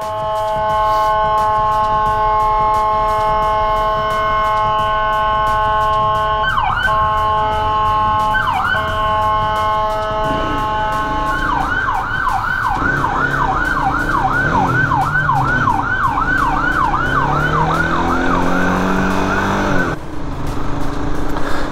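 An ambulance siren wails steadily in busy downtown traffic, loud and close, first in long tones and then in a fast rising-and-falling yelp, over constant road noise.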